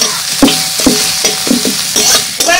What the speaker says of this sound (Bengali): তেল গরম হয়ে গেছে, দিয়ে দেবো। দিয়ে দিচ্ছি থেতো করে রাখা আদা আর রসুন।